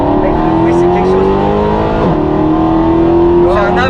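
Mercedes C63 AMG engine revving hard and close, a loud continuous roar with rising and falling pitch as it accelerates, filling the cabin while passengers talk and shout over it.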